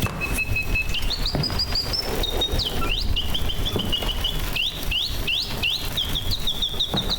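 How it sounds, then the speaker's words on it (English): A small bird chirps brightly in repeated short phrases and rising tweets against a busy, noisy background. "Cheerful little bird."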